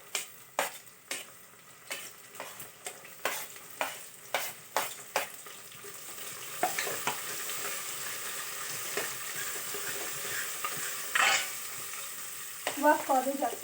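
Cumin seeds go into a hot pan for frying onion: a spoon taps and scrapes the pan in a run of sharp clicks, then a steady sizzle builds, close and moderately loud.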